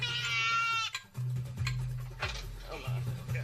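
Goats penned in a protective cage at an African watering hole bleat loudly as live bait for lions, a long wavering cry followed by shorter calls with low rumbling and a voice talking underneath.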